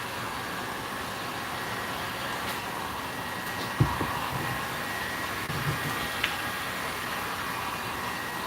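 A hair dryer blows in a steady, loud broadband whoosh that runs unbroken through the whole stretch, with a few faint knocks and clicks near the middle.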